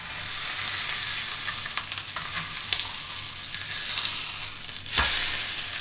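A minced pork and cabbage patty fries in a pan with a steady, loud sizzle and crackle, with a brief scrape or press near the end.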